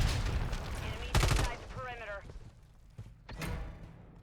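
Call of Duty MW3 gunfire crackles in short bursts, with a sharp loud volley near the start and scattered shots later, beneath a voice and game effects.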